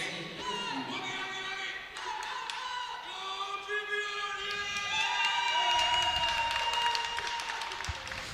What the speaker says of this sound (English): You can hear the whole Great British team Yeah. cheering there.